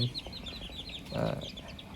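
Chickens cluck softly on a small rural farm while feeding on ripe papaya. The clucks are faint and low amid outdoor ambience, with a brief louder call midway.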